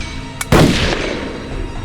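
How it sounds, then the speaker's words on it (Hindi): A single gunshot effect from a Hindi TV crime drama, a sharp loud crack preceded by a small click, followed by a short decaying echo. "उसने दूसरी गोली चलाई"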